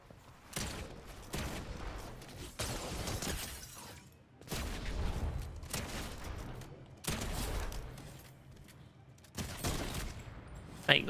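Gunfire in a multiplayer shooter video game comes in repeated bursts and rapid volleys, separated by short gaps across the stretch, with players' voices faintly mixed in.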